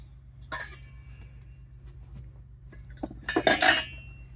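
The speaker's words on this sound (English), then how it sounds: "So all right, so let me bring the pot over." A metal pot clanks as it is picked up, then clatters again as it is set down, close by, with a quiet room hum in the background.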